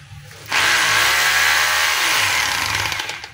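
A DeWalt D25032 rotary hammer starts abruptly on a test run and holds a loud, steady, high-pitched whine with a rapid hammering beat, close by and alone for about three seconds.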